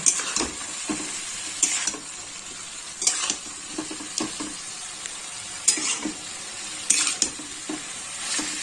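Chicken with bell peppers fries in a pan for chicken chatpata, giving a continuous sizzle broken by repeated bursts of stirring and scraping at irregular intervals, close and fairly loud.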